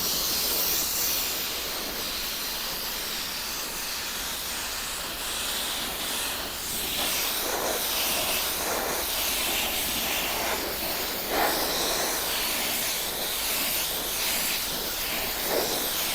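Spray painting the differential of a 1972 Pontiac GTO, a steady aerosol hiss running continuously at moderate level, with occasional slight swells as the spray goes on.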